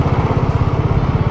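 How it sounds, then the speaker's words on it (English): A Mahindra Mojo motorcycle with dual exhaust idles close by with a deep, rapid, even thump from the exhaust, loud and steady throughout. "The exhaust sound is good"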